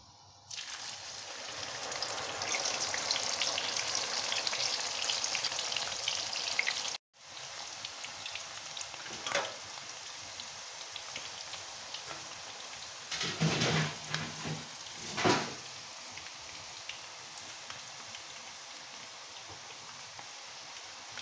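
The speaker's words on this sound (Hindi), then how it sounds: "ये फ्राई करके मैंने निकाल ली है, अब दूसरी मैं फ्राई कर रही हूँ।" Chana dal nimko deep-frying in hot oil gives a steady, dense bubbling hiss like rainfall. It cuts out briefly partway through, then resumes with a few louder surges.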